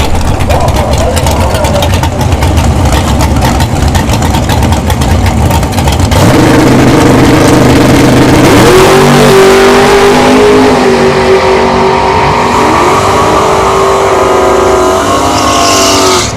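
The 'taco truck' drag racing car runs in Pro ET bracket racing at Bradenton Motorsports Park: a very loud, close engine roars and revs, then climbs in pitch as it launches down the strip, with an announcer talking throughout.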